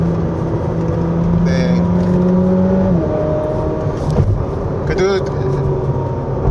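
A Ferrari SF90 Stradale drives a winding mountain road, its engine and motor note humming and shifting pitch beneath someone talking inside the cabin.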